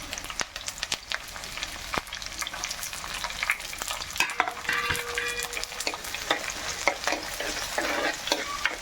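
Onion, curry leaves and green chilli frying in oil in a pan with ginger and garlic, steady crackling sizzle under frequent close spoon stirring and scraping against the pan throughout.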